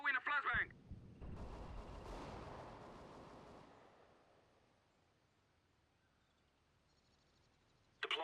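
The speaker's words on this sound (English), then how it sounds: "I am throwing a flashbang." Flashbang going off in a first-person shooter round, a sharp loud blast that rolls into a long fading rumble and ringing, with brief voice chatter before and after.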